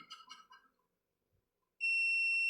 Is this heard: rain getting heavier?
no